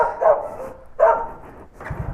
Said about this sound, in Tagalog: Kala ko agatin ako ng aso.